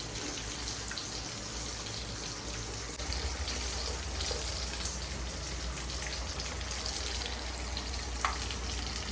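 Continuous splashing, hissing rush of tamarind water pouring into a pot of fish curry, steady and close, with a slight surge partway through and no speech.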